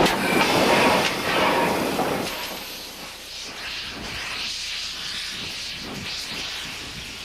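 A diesel-powered heritage train at a Nevada railroad museum pulls away, starting with a loud hissing rush, then settling into a steady rumble with faint rhythmic rail clicks.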